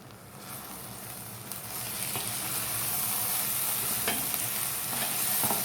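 Soft cooked vegetables being stirred in a hot pan while making bread pakora give a steady sizzle and hiss with occasional scraping and clinking, close up, with no talking.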